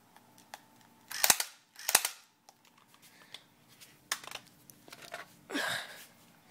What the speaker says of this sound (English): Here's just a sound check. The marksman pistol.